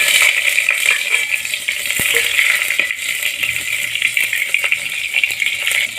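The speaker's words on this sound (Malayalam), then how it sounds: "ഉലുവ പൊട്ടി തുടങ്ങിയിട്ടുണ്ട്. നമുക്ക് അതിലേക്ക് 2 പച്ചമുളക് അരിഞ്ഞത് ചേർത്ത് കൊടുക്കാം." Fenugreek seeds and chopped green chillies frying in hot coconut oil in a clay pot, a dense steady sizzle with scattered sharp crackles and pops, close and loud, no voices.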